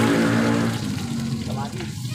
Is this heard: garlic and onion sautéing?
yes